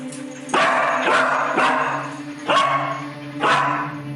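A cadaver dog barks close by, four loud, hoarse barks spaced about a second apart over a steady low hum, no voices.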